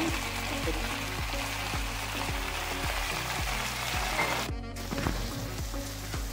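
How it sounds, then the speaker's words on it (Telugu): Gongura (sorrel) leaves cook in oil in a pan, giving a steady, close frying sizzle throughout, with a regular soft stirring or tapping rhythm and one brief burst of noise near the end; no one speaks. "గోంగూర బాగా మగ్గనియాలి నూనెలో"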